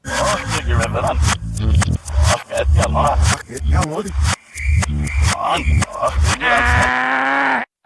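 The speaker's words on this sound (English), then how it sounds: "That's Alvin spinning it backwards" A continuous stretch of reversed audio with warped, backward-sounding vocal phrases and swelling tones, loud throughout, ending in a sustained rising note before cutting off.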